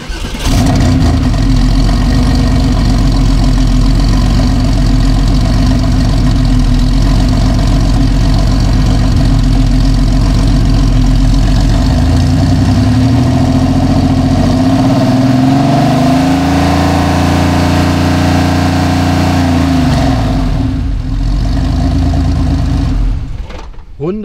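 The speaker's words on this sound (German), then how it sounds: "man dreht hoch, bis auf die halbe Hälfte Drehzahl, ne? Und dann geht man vom Gas" Mercedes W221 S500 engine revved up to about half its rev range, then released off the throttle, heard loud and close as the pitch climbs, peaks and falls away before settling.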